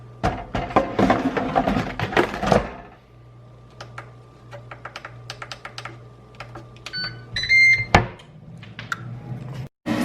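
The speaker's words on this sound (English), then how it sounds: "I'll probably be putting them in there for about 25 minutes into the air fryer at 375" An air fryer is being set, with a run of short clicks and taps followed by a few sharp electronic beeps, near and clear, after a louder stretch of kitchen handling noise.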